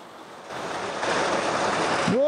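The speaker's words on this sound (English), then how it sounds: "Waterfalls and cascades cause a constant splash and mist." Water splashes and rushes from waterfalls and cascades in a wet oceanic ravine, a broad, steady hiss that swells louder partway through, with a voice starting at the very end.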